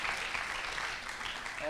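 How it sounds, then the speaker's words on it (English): Applause from an audience at an election results announcement, a steady crowd clapping throughout the short stretch. "First round of voting goes to Jade Sermon, so big round of applause."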